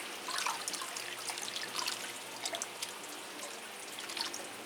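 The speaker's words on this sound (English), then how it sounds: "I don't think you want to watch me just watering plants like this" Water trickling and dripping as orchid plants are watered during a flush with Epsom salts, a steady close splashing with small drip bursts throughout, no talking.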